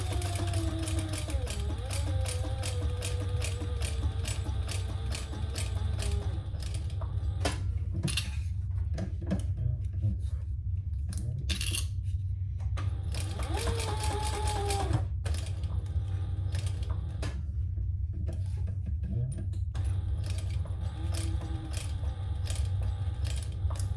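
Sewing machine stitching a seam on a crossbody sling bag, a close steady mechanical hum with rapid clicking needle strokes, running in stretches broken by brief stops.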